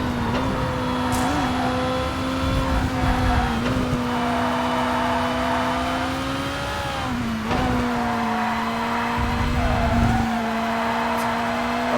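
A DTM race car in TOCA Race Driver 3 roars around the track with a loud, steady engine whine that dips and climbs through gear changes, accompanied by faint tire noise.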